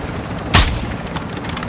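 A single loud gunshot burst from a helicopter-mounted weapon in a video game, fired at targets below, with a sharp broadband crack and short decay over a steady background rumble.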